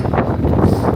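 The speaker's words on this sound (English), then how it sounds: "It's windy." Steady, loud wind buffeting the microphone with a broad, rumbling rush throughout, on a city street in New York City.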